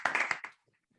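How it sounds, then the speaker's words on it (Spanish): Brief, close-up clapping from an audience: a short flurry of several sharp hand claps that fades out after about half a second, leaving near silence. "les invito a dar un aplauso que valga por dos"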